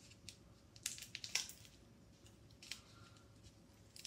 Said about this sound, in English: And you open it with the scissors.